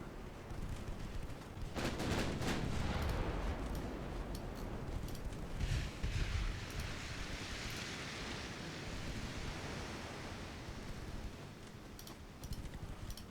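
Warship guns fire armor-piercing shells in a naval combat game, a dense rumbling roar with heavy booming bursts early on and again midway, over a steady wash of battle noise.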